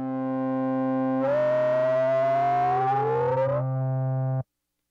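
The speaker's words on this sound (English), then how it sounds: "Here's feedback." A steady buzzing synth tone from a Reason 5 Scream 4 distortion unit, with a whining feedback layer that sweeps upward for a couple of seconds, then everything cuts off abruptly.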